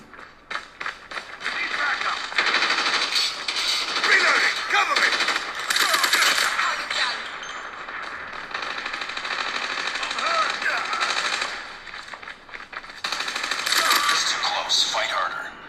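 Rapid PUBG gunfire plays through the two bottom-firing speakers of a Samsung Fold phone, with dense bursts of shots and game effects coming in waves, slightly tinny and fairly loud.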